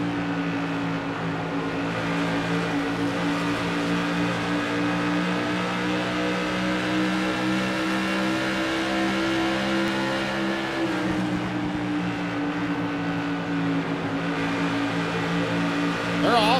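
Modified race car engines run at Iowa with a loud, continuous droning roar that eases slightly as they lift off the throttle and then builds again. Faint talk sits underneath.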